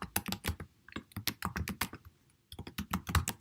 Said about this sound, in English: I'm gonna type my email